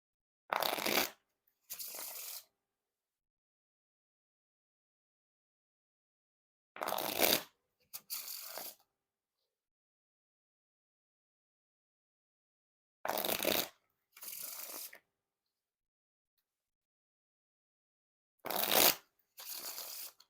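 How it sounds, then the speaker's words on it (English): A new deck of Black Bicycle Aviary playing cards is riffle shuffled four times, each a quick crisp burst of fluttering cards followed by a short bridge, with silence between. "Now time for the riffle shuffle or bridge shuffle."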